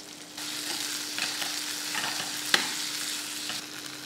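Potatoes and spinach sizzle steadily in a pan while a spoon stirs them, with a sharp scrape of the utensil partway through and no voices.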